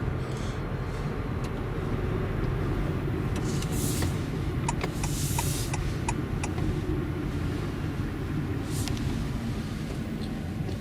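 A steady engine hum with low rumble, rising slightly as a Honda Jazz Crosstar 1.5 hybrid accelerates, heard from inside the car with faint high clicks and whines.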